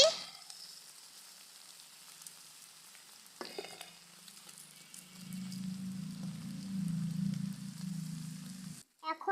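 Lentils are added to a pan of sautéed meat for vegetable khichuri, giving a faint, soft sizzle that grows slightly steadier after a brief clatter, with a low hum underneath.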